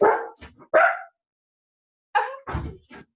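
A dog barks at a postman arriving at the door: a few sharp, close barks and yips in two quick bursts separated by a short silence.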